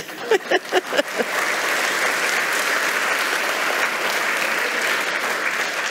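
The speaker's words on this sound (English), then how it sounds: "Round of applause." Audience applause at a talk: a few sharp, separate claps at the start quickly swell into steady, sustained clapping from a crowd that holds at an even level to the end.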